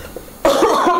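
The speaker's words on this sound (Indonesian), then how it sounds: "Batuk-batuk lagi, ya ampun." A single loud, close cough bursts out after a quiet moment and carries on as a rough, hacking sound until the end, with no speech.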